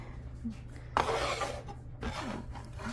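A food scraper scrapes around a silicone bowl of mushroom powder dog food, making a steady rough rasping drag in two close strokes under a low background hum.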